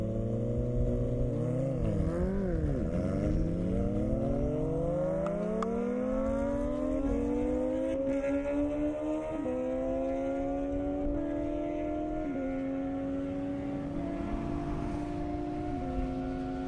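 Kawasaki ZX10R and ZX14 motorcycles race down an airstrip drag strip, their engines screaming through rising, overlapping gear pulls before fading into the distance, with a faint background hum.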